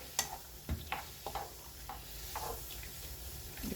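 Hijiki seaweed blanching in a pot of boiling water, heard as faint bubbling and simmering with scattered soft clicks and taps of stirring, low in level with no talking.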